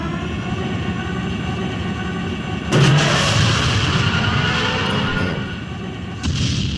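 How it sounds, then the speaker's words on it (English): Pod Racer engine from a Star Wars vehicle addon in Garry's Mod, a loud steady roar that surges sharply near three seconds, eases back, then kicks up again near the end. "We have the Pod Racer. Yes. Now this is pod racing."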